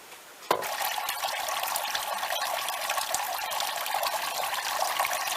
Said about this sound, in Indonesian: Jadi nanti air dari kolam itu akan dipompa naik ke dalam pralon, kemudian dikucurkan masuk ke masing-masing pot.